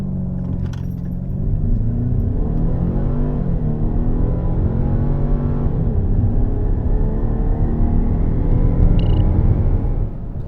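A 2024 Lincoln Nautilus pulls away hard from a standstill during a test run, its engine drone climbing steadily in pitch, dipping at a gear change around six seconds, then rising again, loud and close throughout.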